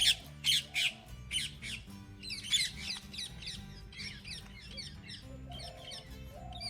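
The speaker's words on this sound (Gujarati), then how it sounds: "કાગડો ખાવા આવ્યો અહીંયા." A crow gives a series of harsh, loud squawks, several close caws at first, then softer repeated calls over a steady low background hum.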